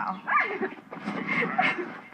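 Dogs yip, whimper and give short barks close by in a series of excited bursts, along with some faint human vocal sounds.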